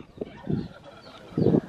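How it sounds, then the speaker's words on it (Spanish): Chickens on a countryside farm in the early morning give short clucking calls, three separate bursts at moderate distance, with the last one the loudest, over a quiet outdoor background. "usted levantarse y escuchar todos los animales gritar aquí. Gallinas, guineas, patos, pavos, perros."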